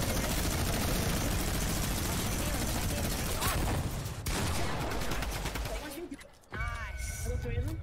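Dense bursts of rapid gunfire fill a Fortnite Battle Royale match, loud and continuous before thinning out near the end, with a player's voice talking over them.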